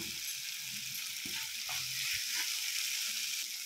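Tomato softened in a pan with turmeric added, frying with a steady broadband sizzle throughout, a few soft stirring knocks low underneath, close and moderately loud with no talking.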